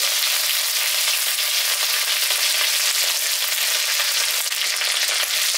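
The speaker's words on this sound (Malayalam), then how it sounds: "അപ്പൊ അതിലേക്ക് നമുക്ക് ഒരു 2 വറ്റൽമുളക് മുറിച്ചിട്ട് കൊടുക്കാം" Dried red chillies, cut into pieces, fry in hot oil for a Kerala-style soya chunk roast, giving a loud, continuous, crackling sizzle that holds steady throughout with no voices.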